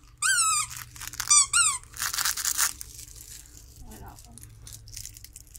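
Squeaky toys squeezed while shopping at a garden centre give two rapid bursts of high, rising squeaks, then crinkling and rustling as people talk nearby.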